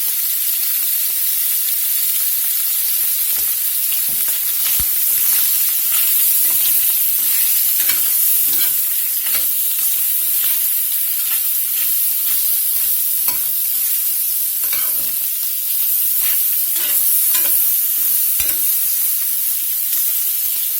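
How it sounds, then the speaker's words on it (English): Chicken and sausage with blackening spice sauté for gumbo in a hot pan, giving a loud, continuous close sizzle with scattered clicks and taps of stirring. "We're just going to let them saute there nice and brown"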